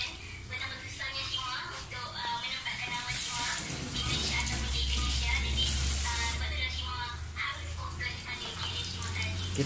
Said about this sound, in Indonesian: Kita tumis sampai dia wangi